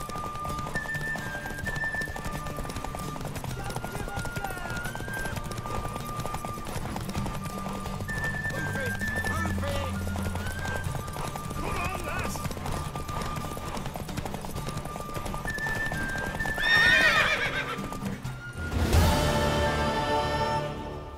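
Horse hooves clip-clopping steadily in Witcher 3, with melodic game music underneath, then a loud whinny near the end followed by a rustling thud.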